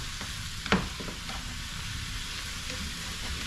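Jerk meatball mixture frying in a pan gives a steady, close sizzle throughout, with one brief clatter of stirring near the start and no talking.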